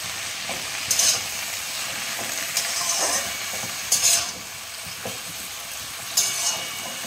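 Salted lau shak (bottle gourd greens) is stirred in a pan with a soft steady sizzle. Several louder scraping strokes of the spatula stand out at intervals.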